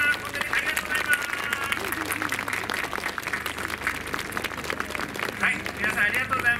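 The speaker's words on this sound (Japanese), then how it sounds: "ちょっと拍手でね、応援したいと思います。" Audience applause at an outdoor character stage during the opening of a world character summit in Hanyu, a steady clapping wash lasting throughout with crowd noise underneath.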